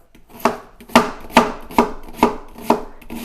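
A knife chops through a whole onion on a cutting board in seven crisp, evenly spaced strikes, each a sharp close knock with a short tail, no talk.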